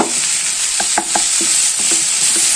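Masala being stirred for a home-style Kerala chicken curry, cooked without oil: a steady sizzle under a run of short scraping strokes of a spoon through the thick mixture, close and fairly loud, with no talk.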